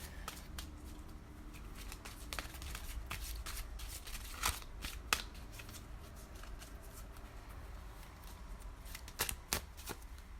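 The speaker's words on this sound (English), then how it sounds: "I'm just shuffling off camera." Tarot cards are shuffled by hand in repeated soft riffles and snaps, close and fairly quiet, with no voices.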